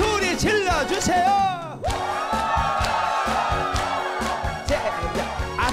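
Shouts and cheers rise from a singing-class audience over a pulsing backing track at a televised sing-along session, with whoops and yells up front before the rhythmic music carries on.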